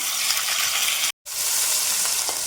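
Ginger and cumin paste sizzles steadily in a hot pan for a lentil dish, a loud continuous hiss broken by one brief silent gap.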